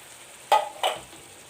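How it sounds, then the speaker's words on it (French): Mushrooms go into a pan of onions, giving two quick close scraping stirs with a short sizzle between them. "Je les laisse mijoter avec les oignons."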